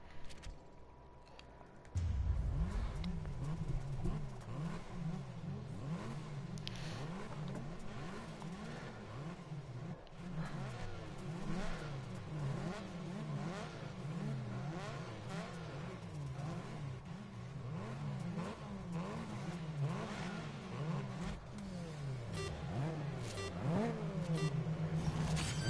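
An Audi RS3 LMS touring race car in the Grid Legends racing game revs hard from the grid at about two seconds, then holds a loud, continuous engine drone that rises and falls through repeated gear changes as it races in a pack.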